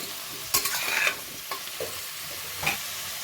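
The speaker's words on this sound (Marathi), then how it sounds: "दर दोन तीन मिनिटांनी एकदा असं हलवायचं म्हणजे छान वाफवली जातात ही गाजरं तुपामध्ये" Grated carrots cooking in ghee for carrot halwa are stirred in a pan, giving a few scraping, rustling strokes with a soft sizzle underneath, close and moderately quiet, with no voices.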